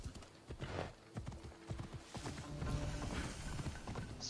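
Horse hooves clip-clop steadily in the Assassin's Creed Odyssey video game as a horse is ridden, a quick rhythmic patter of near hoofbeats over a busy bed of game ambience.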